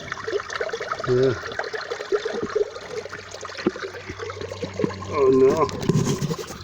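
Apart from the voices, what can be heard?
water filling up an underwater camera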